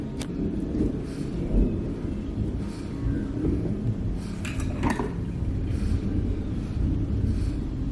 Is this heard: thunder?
yes